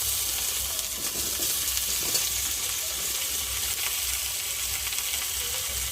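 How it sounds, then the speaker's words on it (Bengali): Steady, close sizzling of green banana, potato and papaya frying in a hot pan, a constant hiss with faint crackles throughout. "এখন আমি কাঁচকলা আলু পেঁপে দিয়ে ভালো করে ভেজে নেব"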